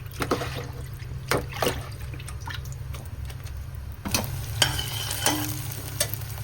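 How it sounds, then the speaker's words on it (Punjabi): Onions frying in mustard oil in a pan for spiced taro curry, a low steady sizzle with a few sharp spoon knocks and stirring scrapes, close and quiet without talking. "ਪਿਆਜ਼ ਗਾਇਜ ਮੈਂ ਅੱਧ ਕੱਚੇ ਪੱਕੇ ਕਰ ਲਏ ਨੇ"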